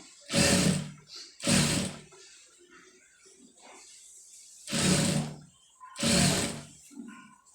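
A sewing machine stitching readymade piping runs in four loud bursts of roughly half a second to a second each, separated by quieter gaps with faint handling sounds.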